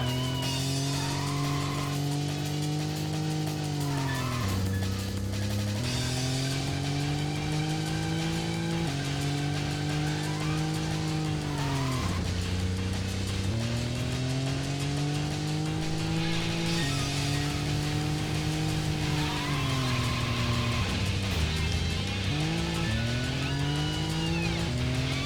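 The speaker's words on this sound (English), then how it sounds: "Really tough to make small adjustments in this thing. It starts skidding like that." Car tires squeal and skid repeatedly in the Racing Lagoon video game, engine tone rising and falling between long screeching slides, loud and continuous with no talking.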